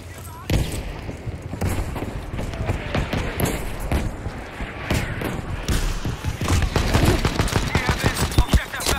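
Battlefield V gunfire and explosions pound in dense irregular bursts, rapid shots and heavy thuds piling up loudly across the whole stretch.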